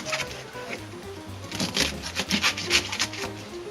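A kitchen knife slices cabbage lengthwise in quick, rhythmic strokes, each a short crisp crunch against a cutting board, close and fairly loud over a low steady background.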